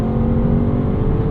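A 2026 Bentley Bentayga Speed, its 641 hp twin-turbo V8 paired with an 8-speed gearbox and driven in manual mode at high elevation, growls with a steady, loud engine drone from inside the cabin, with no talk over it.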